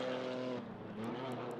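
A GT4 race car in the Assetto Corsa Competizione sim drives hard, its engine whining steadily up close with faint tyre scrub and brief squeals near the end.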